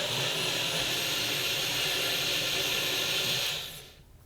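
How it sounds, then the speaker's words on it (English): A NutriBullet blends an oil-free raw sauerkraut salad dressing, a loud, steady high-pitched whirring motor drone running for several seconds before it abruptly winds down and stops. "let's go ahead and blend this one up in the NutriBullet that's not a blender."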